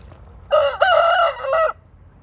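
A rooster, one of a flock of backyard hens and roosters, lets out a single loud, close crow lasting just over a second, clear against a quiet background.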